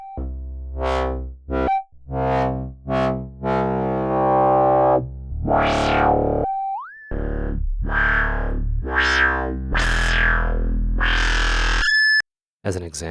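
A Serum synthesizer patch runs through distortion and then a scream filter, playing a series of harsh, buzzing notes with sweeping, rising resonant peaks and gliding pitches, some sustained, separated by brief gaps.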